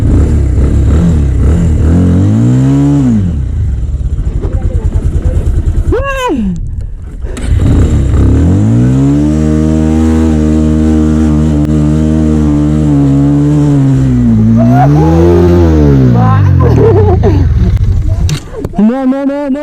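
A motorcycle engine on a snowy ride revs up and down in several rising and falling surges, loud and close, while a person talks over it for much of the time.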